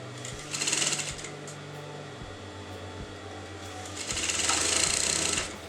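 A sewing machine stitches along the neckline of a kurta, whirring in two short runs with a steady low hum and faint clicks between them, close by.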